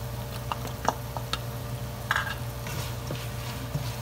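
Onions sautéing in a pan for Filipino pancit palabok, a steady low sizzle with occasional light ticks and scrapes of stirring, close up and without talk.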